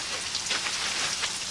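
Steady, dense rain falls outside a cave where people shelter, a continuous close hiss of drops on surfaces with no talking.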